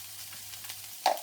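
Bacon, onion and orange pepper frying in a pan give a soft, steady sizzle, fairly quiet, with a brief louder crackle near the end.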